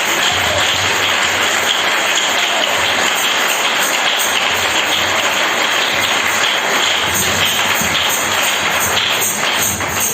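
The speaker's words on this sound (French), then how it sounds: "Donnez-moi l'acclamation" A church congregation breaks into sustained applause and acclamation during a French-language worship service, a dense, loud wash of clapping and crowd voices that stays steady for about ten seconds without any clear speech.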